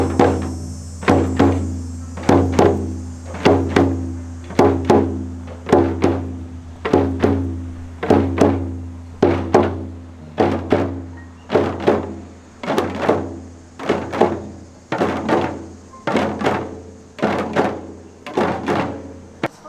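Hand drums beat together in a steady, even rhythm, a long run of resonant thumps roughly every second or so, loud and close, continuing throughout with a faint ringing tone underneath and no talking.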